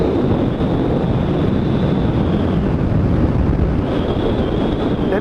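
A 2008 Kawasaki KLR 650 motorcycle cruises along a road, heard as steady roaring wind buffeting and a constant engine drone with a faint high whine, loud and unbroken throughout.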